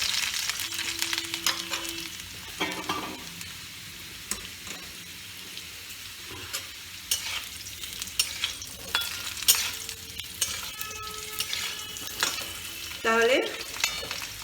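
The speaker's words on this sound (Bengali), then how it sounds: "যে সবজি দেন না কেন খুব বেশি ভাজার দরকার পড়ে না।" Vegetables for a Bengali snakehead fish rosha fry and sizzle in a pan, with intermittent scraping and stirring strokes and broadband crackle throughout; a voice speaks briefly.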